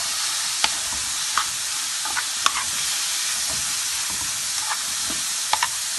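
Onion frying in a hot pan for Egyptian street-style liver, a steady broadband sizzle with occasional sharp pops and stirring clicks, close and continuous with no voices.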